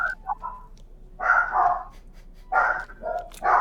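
A dog barks repeatedly, loud and close, in several bursts separated by short pauses.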